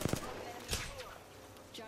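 Gunfire in the Apex Legends battle royale game while the player is under attack: a couple of sharp shots right at the start, then another hit a moment later, over a steady layer of game background noise.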